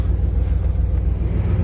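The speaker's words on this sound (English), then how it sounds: "Oh my god, that sounds really good. That sounds like some of my old muscle cars." A car engine rumbles through a worn, deteriorated exhaust, a loud, deep and steady throaty drone held close by with no talk over it.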